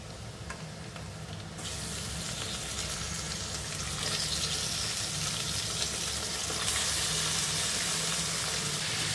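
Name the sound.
mutton frying with softened onions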